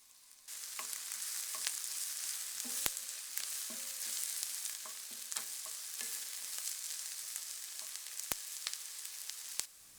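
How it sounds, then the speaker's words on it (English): Onions frying in oil in a pan over medium heat: a soft, steady sizzle with scattered sharp crackles and pops, fairly quiet, with no voices. "heat the pan over medium heat and add the oil, followed by the onions"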